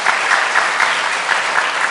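An indoor audience at an inauguration ceremony in Pohang claps together, a dense, loud burst of applause filling the whole moment without any voices.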